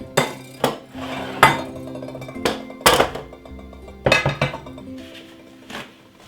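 A metal bun tray is handled in a kitchen. It gives a series of sharp clanks and clinks with ringing metallic tones, about eight irregular knocks over several seconds, moderately loud and close, with no talking.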